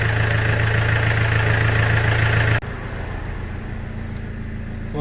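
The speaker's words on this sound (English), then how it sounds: "I'm gonna leave the car running about 10 minutes" A BMW E91 diesel car engine idles steadily and close by with a low, even rumble that shifts slightly in tone partway through.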